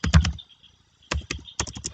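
Rapid bursts of keystrokes on a computer keyboard, a quick cluster followed by a short pause and then several more close, crisp taps, heard alone with no talking.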